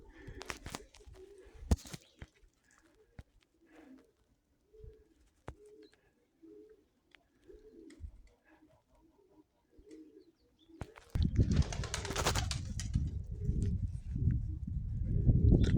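Pigeons coo in a soft, repeated rhythm, low and close in a quiet setting, followed by a sudden loud, rushing flurry near the end.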